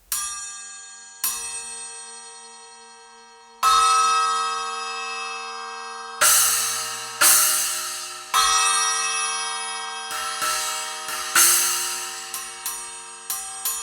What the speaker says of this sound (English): the bell is a very heavy cymbal, so high pitch and long sustain